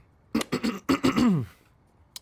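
A person clears their throat in a run of several short, voiced bursts that rise and then trail off into a longer descending rasp, close and moderately loud, followed by quiet.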